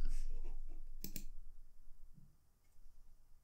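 A computer mouse clicks twice in quick succession, close and crisp, during a domain-search task on a web page, with faint soft clatter around it and no talk.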